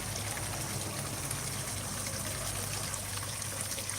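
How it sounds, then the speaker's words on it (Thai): Steady, continuous rush of flowing water from a waterfall, a dense even wash of sound with no pauses, heard alone without voices. "มีน้ำตกด้วยนะครับ มีน้ำตกด้วย"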